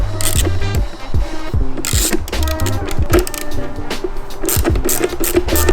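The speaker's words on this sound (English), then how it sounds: "Go ahead and remove these two little screws right there" Two small screws being removed from a car's intake make a close, loud run of clicks, ratcheting and metallic rattles with irregular taps, a busy mechanical clatter filling the whole stretch.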